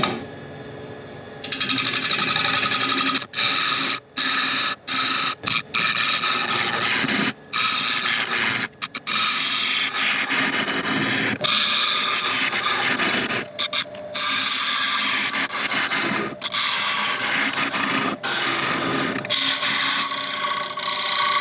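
A tool cuts across the top of a spinning black locust blank on a woodturning lathe, a loud steady scraping whir broken by repeated short pauses as the tool lifts off.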